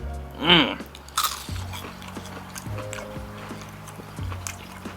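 A crunchy bite into a Magnolia pork lumpia from Walmart, one sharp crisp crunch followed by softer chewing and faint wet mouth sounds, close up.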